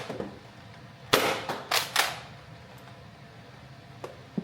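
A Nerf Rival toy blaster fires a foam ball at a target: a sharp crack near 1.1 s followed by several quick bright snaps and clatters, then a faint tap near 4 s, with no talking.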